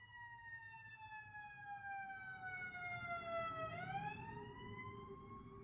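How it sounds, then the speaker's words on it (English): Emergency vehicle sirens wail past at a distance, a long steady tone that drops in pitch and then rises again over a low rumble of traffic, fairly faint. "Yeah, there go those sirens."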